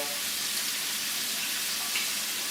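Tofu sautéing in olive oil with cumin and spices in a pan, a steady bright hissing sizzle that holds evenly throughout, close and with no talking.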